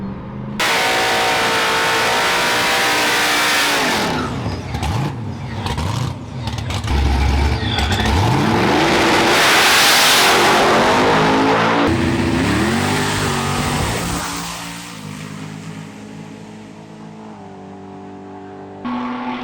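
A ProCharged COPO Camaro launches hard down a drag strip and lifts into a sizable wheelie, its supercharged engine roaring loud and close, rising through revs before backing off and fading toward the end.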